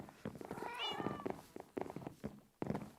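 Several cats meowing in Minecraft Bedrock Edition, a clear rising-and-falling meow followed by a few shorter mews at a moderate level, with no voices over them.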